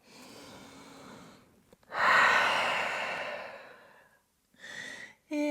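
Deep, audible breaths held in yoga downward dog, with a long breathy exhale that swells and fades, then a short breath and a brief voiced sound near the end.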